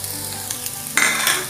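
Green chilies fry in cooked ginger garlic paste for a mushroom pulav, a close, loud sizzle with stirring clatter that jumps sharply louder midway as they hit the hot pan.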